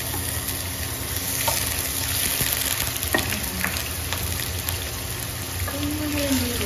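Ginger sizzling in a hot pan for squid adobo, a steady close frying crackle with occasional stirring clinks and a faint voice in the background.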